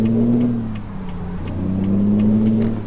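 A heavy truck engine in a truck-driving simulator game drones steadily, its pitch shifting as it rises and falls, loud and close with no voices.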